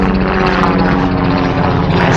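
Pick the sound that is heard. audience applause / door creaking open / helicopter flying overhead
helicopter flying overhead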